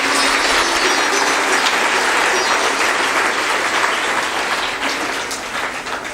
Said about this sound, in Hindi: उनके लिए हम सब लोगों को ताली बजाकर उनका सम्मान करना चाहिए